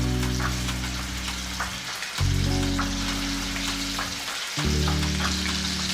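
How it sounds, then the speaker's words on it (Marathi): Ground masala paste fries in oil in a pan for Malvani chicken, giving a steady close sizzle with stirring that swells louder twice as the paste is moved around. "आता आपण मसाला परतून घेऊया जोपर्यंत आपलं चिकन शिजतंय तोपर्यंत।"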